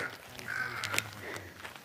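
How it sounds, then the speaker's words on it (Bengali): Mountain ravens call at the Jogini Mata temple in the hills, their harsh caws sounding moderately near over a quiet outdoor background, with several short calls spread across the moment. "পাহাড়ি দাঁড় কাক।"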